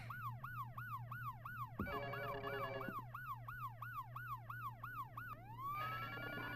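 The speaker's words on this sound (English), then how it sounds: "Oh, we're riding the ambulance now." An ambulance siren in a video game wails in a fast rapid yelp cycle, briefly switching to a different tone before resuming, then sliding into a long rising whoop, all over a steady low engine hum with no talk.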